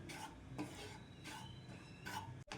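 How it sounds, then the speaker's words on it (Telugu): A spoon stirs wheat flour frying in ghee in a pan for jaggery barfi, in rhythmic scraping strokes about every half second over a soft, steady sizzle. "ఈ విధంగా కలుపుకుంటూ వేయించుకోవాలండి."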